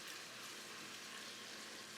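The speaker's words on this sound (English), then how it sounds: "do you hear the sizzle?" Shrimp scampi with garlic sizzles in a pan on the stove, a faint, steady crackling hiss that holds evenly throughout without any talking.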